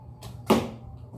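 Arrow loosed from a bow at target practice, a sharp single snap and thud standing out briefly against a quiet outdoor background, with a faint softer rustle just before it.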